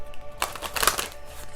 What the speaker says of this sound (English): Let's do 3 more shuffles. Now 2 more shuffles.